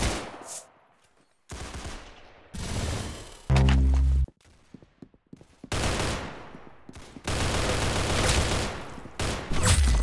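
Gunfire in the Arsenal video game comes as loud bursts of shots broken by short gaps, including one heavy booming blast midway, followed by longer sustained volleys near the end.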